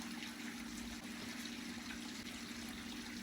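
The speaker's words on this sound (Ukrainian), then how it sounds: "Водичка булькоче." Faint, continuous gurgle of trickling water in a garden flower bed, a low steady flow with a hum beneath it and no voices.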